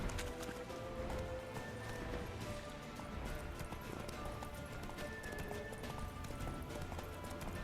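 Hooves of Roach, the horse in The Witcher 3: Wild Hunt, pounding in a fast galloping clip-clop under dense game action and ambience, steady and continuous throughout.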